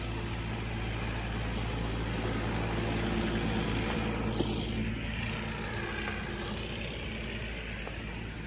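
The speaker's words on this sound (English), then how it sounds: "Here comes Krantz on the tractor, and I don't want him to ruin my audio quality." A tractor drives past outdoors during a stroll, its low engine rumble steady and moderately faint, swelling slightly as it passes midway, with no talk.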